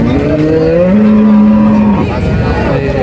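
A bull calf among dairy cattle at the Sonaichandi cattle market gives a loud, close, drawn-out moo lasting over a second, over a steady crowded background hum.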